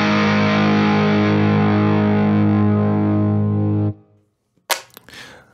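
Electric guitar through a Line 6 POD GO using its Red Llama distortion emulation: one thick, fuzzy, sustained chord rings loud and close for about four seconds, then cuts off, followed by brief string scrapes and pick noise.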